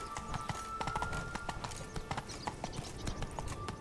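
Horse hooves clatter in The Witcher 3: Wild Hunt (Blood and Wine), a fast, rhythmic clip-clop of steady galloping, close and clear over a quiet background.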